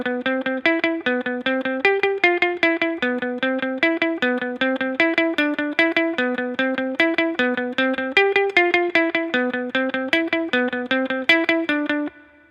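A guitar picks out the lead line of a song, a steady run of plucked single notes in an even rhythm. It is close, clear and played alone for about twelve seconds.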